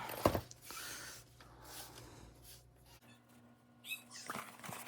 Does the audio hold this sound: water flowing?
no